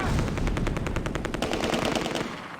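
Machine-gun fire from a half-track's heavy gun in the Close Combat war game: a loud, rapid, continuous burst of evenly spaced shots that tapers slightly at the end.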